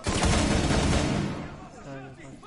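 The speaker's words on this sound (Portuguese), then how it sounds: "Ah, deu um tiro na cabeça dele." Burst of gunfire in the video game Rainbow Six Siege, a loud rattling volley in the first second that fades out, followed by a voice speaking near the end.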